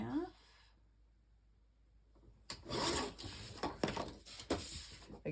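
A paper trimmer slices a sheet of paper for a mini album, a rasping, rubbing cut with a few scraping strokes up close, following a brief bit of speech.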